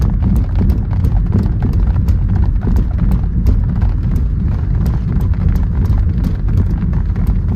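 Rapid, regular creaking ticks from foam between the windshield and dashboard repeat over a steady low road rumble inside a moving Renault Megane 2, like something rubbing and squeaking with each bump.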